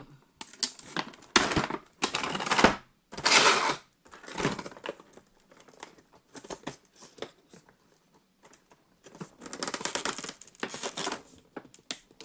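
Adhesive tape is torn off Zombicide board game pieces and tiles in a series of sharp, close, crackling rips, with short pauses between the pulls and no talking.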